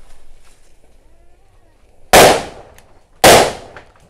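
Two sharp, loud firecracker blasts set off in the ground about a second apart, each a sudden crack with a short fading rumble, after a quiet stretch.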